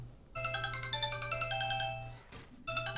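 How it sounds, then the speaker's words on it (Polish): A phone ringtone from an incoming call plays loud and close as a repeating melodic electronic tone over a steady low hum. It breaks off briefly, then starts again with no voices. "ktoś oczywiście musi dzwonić na telefon"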